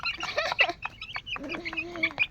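Chickens cluck and squawk in short, overlapping bursts close by, with a few higher calls mixed in.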